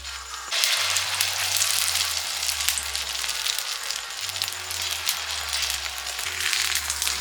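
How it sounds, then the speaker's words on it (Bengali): Eggs frying in a pan in a Bengali home kitchen, giving a steady, close, loud sizzle that crackles continuously throughout, with a low electrical hum underneath and no talking. "এবার ডিম ভাজা করে নেবো"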